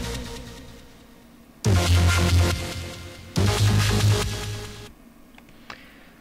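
A synthesized wormhole sound made with the Harmor synth, using unison with nine voices: two loud, dense, distorted bursts, each holding about one and a half seconds before cutting off, then a fainter tail with a few small clicks.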